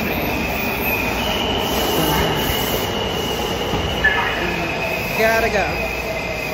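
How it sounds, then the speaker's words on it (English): A train arriving at a station with steady rumbling rail noise and sharp, high wheel squeals near the end, close and loud, while a person talks briefly over it. "Here's the train."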